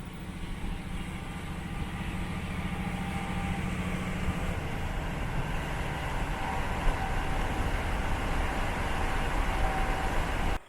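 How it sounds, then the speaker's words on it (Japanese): A local train ride in Hokkaido, a steady low rumble of the carriage rolling along the rails with faint mechanical hums, continuous and even throughout. "まずは10時35分発の立川行き普通列車に乗車します。"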